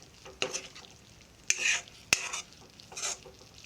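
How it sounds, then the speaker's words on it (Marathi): Mushrooms stirred in a pan for a Malvani-style curry: a few soft, separate scraping strokes with a faint sizzle in between, quiet and close. "परतून घ्यायची आहे भाजी"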